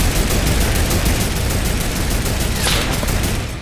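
Turret gunfire in a video game, a loud, continuous rapid burst of shots that runs unbroken and close, with no talk over it.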